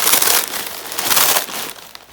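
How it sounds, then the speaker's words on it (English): Food pieces are crushed by hand inside a plastic bag while preparing fried chicken lollipops, giving loud, close crinkling and crunching that rises and falls in waves for about two seconds. "all you're going to do is just hold it and just crush it just a little bit."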